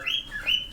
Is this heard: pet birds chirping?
yes